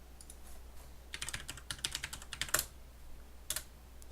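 Close, quiet clicks come from a computer keyboard as a folder name is typed, in a quick irregular run of keystrokes with a few separate taps afterward.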